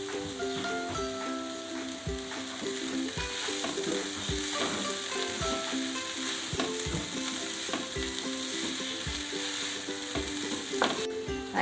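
Cabbage masala curry frying in a pan as a roasted spice powder of cinnamon, cloves and coriander is stirred in, with a steady sizzle broken by regular scraping and stirring knocks from a spoon.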